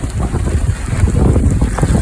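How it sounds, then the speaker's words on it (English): Wind blows hard around a sailboat in the rain, a loud, gusty rumble of buffeting wind noise against the microphone that stays constant and close, with no talk. "With rain comes wind."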